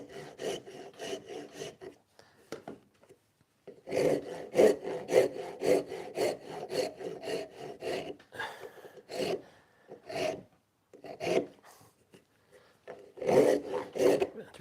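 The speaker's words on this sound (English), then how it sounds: "this is probably the only time I use a rasp when I'm making totes" A steel rasp shapes a wooden tote for a restored handplane, giving rhythmic bursts of rough rasping strokes, close and fairly loud, separated by short pauses.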